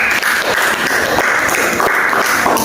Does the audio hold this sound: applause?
yes